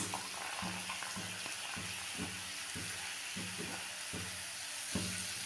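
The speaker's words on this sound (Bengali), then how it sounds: "পেঁয়াজ কুচি দিলাম, পেঁয়াজটা একটু ভেজে নেব।" Chopped onion, carrot and beans fry in butter in a pan for chicken pasta, a constant close sizzle punctuated by regular stirring strokes about twice a second.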